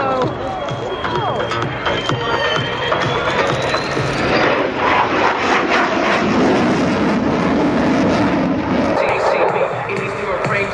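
SOLOTÜRK military jet at an air show at the Royal International Air Tattoo roars loudly and continuously overhead, a broad rushing engine noise with a falling whine, while crowd noise and voices mix underneath.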